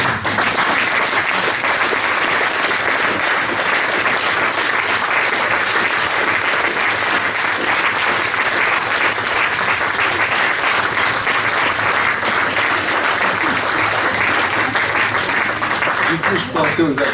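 Long, sustained audience applause after a talk on healing processes, dense and even clapping from a large crowd filling the whole stretch, with a few spoken words faintly heard underneath.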